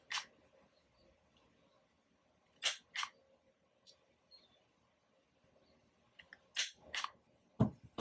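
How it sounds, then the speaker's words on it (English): A Kotamaru Pro corner rounder, small side, punches the edges of sticker paper in a few sharp, close clicks, some paired in quick succession, separated by quiet pauses. "I do want to round the edges. I'm using the small side of my Kotamaru Pro corner rounder."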